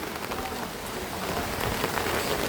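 Rain falling on a village courtyard, a steady dense patter and hiss of drops on the ground that holds at an even, fairly soft level throughout.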